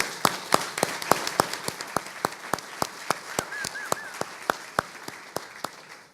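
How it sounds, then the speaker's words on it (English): An audience at a panel on federal agency records management gives a steady round of applause, made of distinct, evenly spaced sharp claps that ring out clearly over a quiet room for several seconds. "I want to give you a round of applause."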